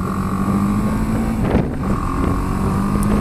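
A BMW G310GS motorcycle cruising on a road gives a steady engine hum mixed with constant wind roar, with a brief louder rush midway and no talking.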